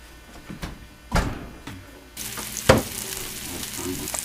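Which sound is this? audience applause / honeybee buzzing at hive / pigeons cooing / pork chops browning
pork chops browning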